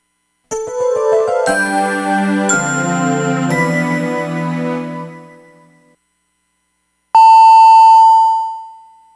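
A KFM Gyeonggi radio time signal for seven o'clock: a bright chiming jingle of descending tones, a short pause, then a single loud sustained beep that fades out.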